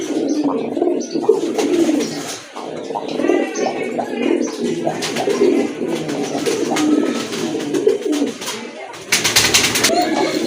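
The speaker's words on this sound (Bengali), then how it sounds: "মাশাআল্লাহ চমৎকার এক জোড়া কবুতর" Pair of pigeons cooing up close at a pigeon sale, soft repeated throaty coos and gurgles over a busy background of chatter and flutter, with a brief harsher burst near the end.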